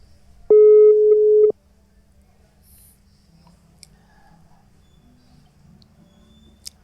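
A telephone line gives one steady tone of about a second while a call is dialed, then near silence with faint small clicks.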